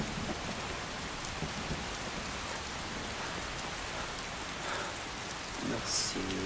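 Steady rain falling in the open-world fantasy game Skyrim, a dense even hiss of drops with a faint rumble underneath, continuous and close throughout.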